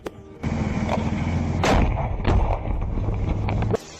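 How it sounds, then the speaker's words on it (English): Handheld anti-tank grenade launcher fired at an armored vehicle in combat in the Ukraine-Russia war: a sharp close launch crack followed by a heavy booming blast and rumbling echo, with another bang toward the end over steady background noise. "He steps out fully from cover and fires a handheld anti-tank grenade launcher at the enemy armored vehicle."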